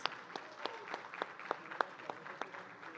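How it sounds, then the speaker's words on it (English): Audience applause with scattered claps and a low crowd murmur, moderately loud and steady throughout. "Give it up for both our guests, Anish and Raunaq."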